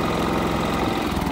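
A Westinghouse iGen4500 or Predator 3500 portable generator runs steadily, with a continuous, even engine drone and a low mechanical hum. The sound holds unchanged for the whole moment, with no talk.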